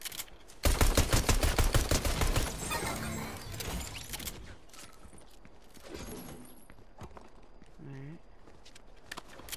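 A loud, rapid burst of Fortnite gunfire opens close by and fades after a couple of seconds, followed by scattered thuds and clatter under quiet talking.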